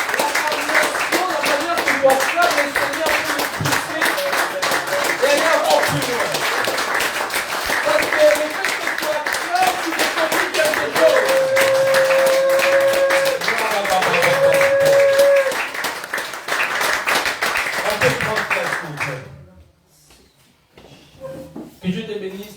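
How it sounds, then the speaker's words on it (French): Congregation at a church service clapping in acclamation, a dense, steady wash of many hands with a voice and tonal notes over it, then fading out near the end. "Est-ce qu'on peut encore acclamer pour le Seigneur?"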